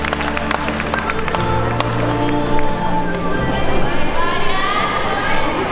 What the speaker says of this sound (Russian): Болельщики, приветствуем аплодисментами финалистов группы